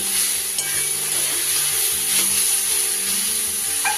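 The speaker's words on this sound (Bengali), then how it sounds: "বেশ ভাজা ভাজা করে নিয়েছি" Turnip frying with small fish in a pan, a steady close sizzle broken by a few scraping stirs of a spatula and no talk.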